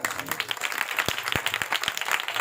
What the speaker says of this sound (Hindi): बेटी के लिए ताली लगाए